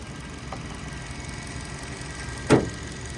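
A 2015 Nissan with a 1.6 engine and automatic gearbox idles with a steady low rumble, broken once near the end by a short louder thump.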